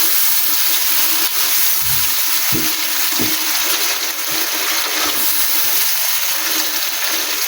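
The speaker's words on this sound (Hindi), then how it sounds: "अब हम इसमें ये लोबिया डाल देंगे, इसको इसमें मिक्स करेंगे और भून लेंगे।" Red kidney beans stirred into frying masala in a pot, giving a loud, steady hissing sizzle with a few soft low thumps of mixing.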